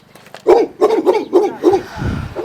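A dog barks in a quick run of five or six loud, close yips and barks, followed by a lower rumbling noise at the end.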